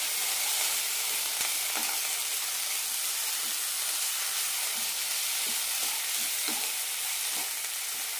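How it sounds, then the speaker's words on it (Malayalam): Cabbage chutney with tomato, coriander leaves and grated coconut sautés in a pan, giving a continuous close sizzle and hiss with occasional soft stirring scrapes, no talking. "നന്നായി വഴറ്റാം."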